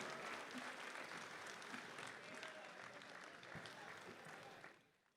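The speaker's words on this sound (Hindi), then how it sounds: "आपकी भरपूर तालियों में" An audience at a mushaira, an Urdu poetry gathering in Dubai, breaks into sustained, dense applause that carries on steadily before fading out at the end.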